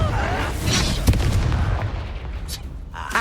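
A Confringo blasting spell explodes in Hogwarts Legacy, heavy booming blasts and rumbling impacts filling a dense, continuous game soundscape with sharp bursts standing out.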